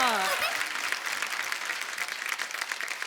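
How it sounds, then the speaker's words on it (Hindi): A studio audience on a TV comedy show gives a sustained burst of loud applause to welcome children, with a voice trailing off at the start. "जोरदार तालियों से स्वागत कीजिए बच्चों का।"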